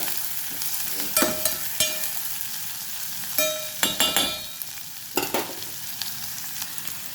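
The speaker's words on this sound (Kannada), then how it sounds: "ಸ್ವಲ್ಪ ಎಣ್ಣೆಯಲ್ಲಿ ಬಾಡಿಸ್ಕೊಳ್ಳುವ ಇದನ್ನು" Curry leaves sautéing in a little oil for North Karnataka style curd rice hiss and crackle in a pan, with a few sharp bursts of sizzling and stirring scrapes, close and with no talking.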